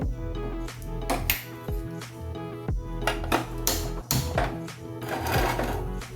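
A clay cooking pot is set onto a gas stove in a home kitchen, ready for soaking tamarind for Kerala mulaka pachadi. Close clinks and knocks of pottery and metal come in an irregular series over a low steady hum, with no voices.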